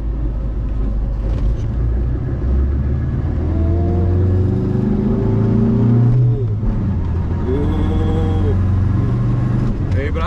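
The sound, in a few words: campervan engine accelerating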